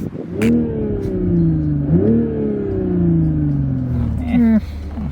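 A Toyota Supra's engine revs up in rising sweeps, throaty exhaust climbing, dipping and climbing again, ending in a quick burbling crackle.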